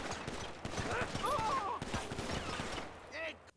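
Gunfire in the video game GTA 5 during a mission firefight, a dense stream of rapid shots crackling throughout under overlapping game voices, with a brief louder burst near the end.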